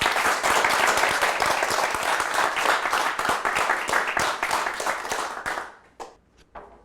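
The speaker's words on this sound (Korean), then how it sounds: "박수로 청해 주시죠" Audience applause at a Korean talk concert welcoming a documentary photographer to the stage, a dense, steady wash of many hands clapping that thins out and fades to a few scattered claps near the end.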